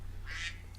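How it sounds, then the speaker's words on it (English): A wake-up alarm gives one short, honk-like tone under a second long, fairly quiet against low background hum. "was the alarm to wake up and do the podcast"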